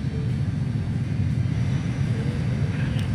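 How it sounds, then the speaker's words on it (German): An airplane takes off in the video game Transport Fever 2, giving a steady, continuous engine rumble and roar that stays level throughout with no talking. "Ich glaube, die Maschine hebt jetzt ab."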